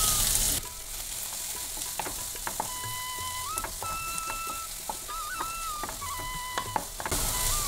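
Chopped onions fry with fennel seeds in hot oil, giving a close, steady crackling sizzle dotted with small pops and faint spoon clicks.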